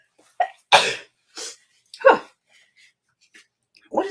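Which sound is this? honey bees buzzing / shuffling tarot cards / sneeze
sneeze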